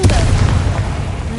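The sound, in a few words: Confringo fire blast spell from the video game Hogwarts Legacy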